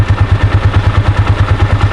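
A Honda TMX 155 single-cylinder motorcycle runs close by, out on a rainy day, with a fast, even thumping engine pulse that repeats steadily and loudly throughout.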